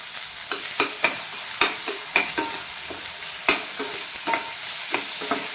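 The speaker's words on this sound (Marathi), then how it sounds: "कांदा थोडा गोल्डन ब्राऊन झालाय, त्यामध्ये मी टोमॅटो टाकून घेते" Tomatoes going into golden-brown onions frying in oil for a bitter gourd curry, with a steady sizzle broken by repeated sharp scrapes and clinks of a spoon stirring in the pan, close and fairly loud.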